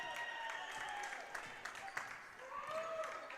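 A crowd at a high school girls' basketball game cheers and applauds after a three-pointer, a steady, fairly distant wash of clapping and voices with a few whistles and shouts, faint overall.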